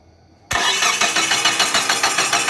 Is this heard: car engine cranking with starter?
yes